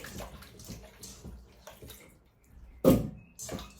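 Water sloshes and splashes in a pan as pieces of jackfruit are washed for a wet curry, with soft intermittent swishing and one louder close splash near the end.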